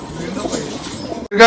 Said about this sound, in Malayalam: പ്രാവുകളൊക്കെ ശ്രദ്ധിക്കുക, ഒന്നിനൊന്നും മെച്ചുള്ള പ്രാക്കാണ് കേട്ടോ